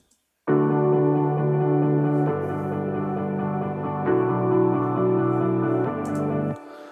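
A song section with sustained chords and a deep bass guitar line underneath, the bass shifting notes every couple of seconds, with no singing or talking.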